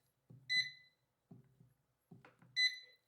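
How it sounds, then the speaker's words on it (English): An air fryer beeps as it is switched on and set to 400 degrees: two bright electronic beeps about two seconds apart, close and clear, each preceded by soft button clicks and handling taps. "We're going to turn on the air fryer. We're going to turn it to 400 degrees"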